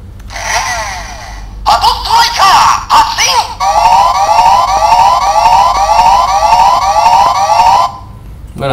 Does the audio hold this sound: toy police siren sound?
yes